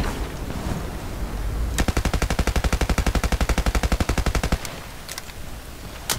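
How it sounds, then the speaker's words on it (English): Full-auto hip fire in the video game Battlefield Play4Free: a single long burst of rapid, evenly spaced gunshots lasting a few seconds, loud and close, followed by a couple of isolated shots. "So we're going to start off with hip fire full auto."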